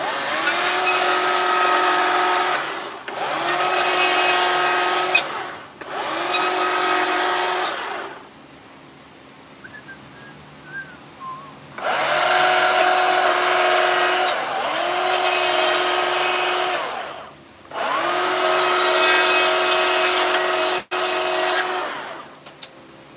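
A chainsaw carves bear figures from a 6x6 timber, with loud sustained bursts of revving cutting separated by brief pauses and a quieter idle stretch in the middle.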